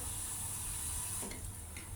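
A quiet, steady sizzle of whole tempering spices frying in oil for a cucumber curry, a soft continuous hiss with a brief clatter partway through.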